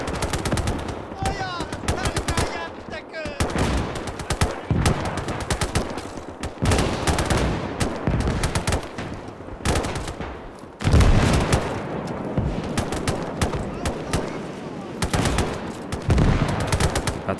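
Lahti machine gun in a World War II Winter War battle on the Mannerheim Line, played out in the strategy game Gates of Hell, fires in dense sustained bursts amid other gunfire and explosions, loud and continuous throughout.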